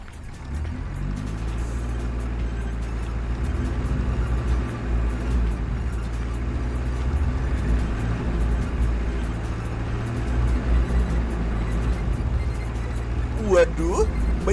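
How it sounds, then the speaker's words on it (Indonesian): Big trucks loaded with logs rumble past on a road in a continuous low, heavy drone that swells and fades as they move by, with a brief high whine near the end. "Waduh, banyak banget mobil gede-gede nih. Pada bawa kayu banyak banget."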